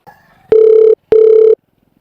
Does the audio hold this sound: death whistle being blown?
no